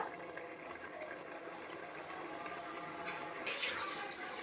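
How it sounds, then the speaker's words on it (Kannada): Hot water poured into a pot of pulao cooking on the stove, a steady, fairly soft pouring and sizzling wash throughout, swelling briefly louder near the end. "ಇಲ್ಲಿ ಪಕ್ಕಕ್ಕೆ ನೀರು ಕೂಡ ಕಾಯಕ್ಕಿಟ್ಟೀನಿ ಹಂಗಂದ್ರೆ ಪಲಾವ್ ಬೇಗ ಆಗುತ್ತೆ ಅಂತ ಹೇಳ್ಬಿಟ್ಟು ಬಿಸಿನೀರು ಹಾಕಿ"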